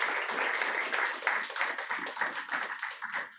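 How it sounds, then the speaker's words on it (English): Applause from a poetry festival audience, a steady patter of many hands clapping at moderate volume that holds for a few seconds without voices. "Let's give them a round of applause because they're making it happen tonight."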